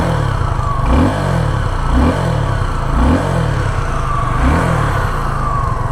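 A Suzuki V-Strom SX 250 motorcycle engine drones loudly and close, with four or five regular throttle swells that rise and fall about once a second over a steady rumble.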